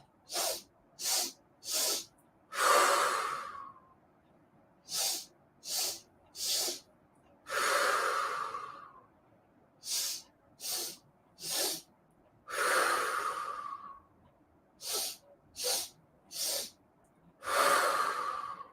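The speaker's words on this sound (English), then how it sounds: "Let's do those 5 rounds of sniffing breath." Quick sharp nasal sniffs in short bursts during a yoga breathing exercise, each group ending in a longer, breathy exhale, repeated in a steady cycle, close and clear with no talking.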